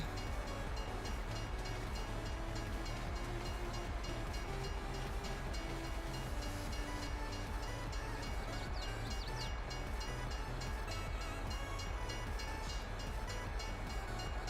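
A train rolls past in Farming Simulator 22, a loud, steady rumble of wagons and engine filling the whole stretch without talk.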